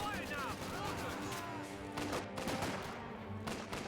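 Infantry gunfire in Company of Heroes 2, with OKW Volksgrenadiers under fire and an incendiary grenade nearby: dense, continuous bursts of rifle and machine-gun fire mixed with thuds, heard under a commentator talking.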